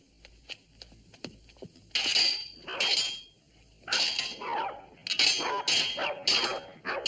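Several dogs at a house bark in sharp, repeated bursts, close and loud, with yips and whimpers between clusters of barks and no talking over them.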